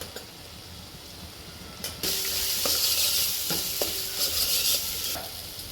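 Turmeric, chili and coriander-cumin powder hit hot oil with onion and tomato for dal, giving a steady sizzle and frying hiss that jumps louder partway through, with a few soft stirring clinks and no talk.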